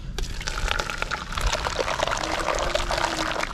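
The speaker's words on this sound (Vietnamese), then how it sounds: "Đấy, bà sẽ rót vào đây nhá." Liquid jelly for a large layered dessert poured from a container into a mold, a continuous close splashing trickle that stays steady and fairly loud throughout.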